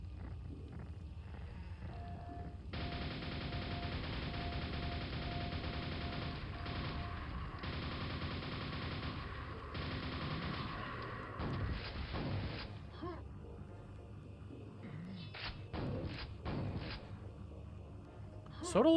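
Rapid, unbroken nailgun fire in Quake's Tremor levels: a dense mechanical rattle that runs loud for about eight seconds, then gives way to scattered game noises and sharp clicks.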